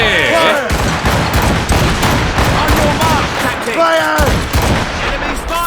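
Cannon fire rings out in an Assassin's Creed Rogue naval battle video game, with loud repeated booming volleys and crackling gunfire in quick succession, and a man excitedly calls out over the barrage.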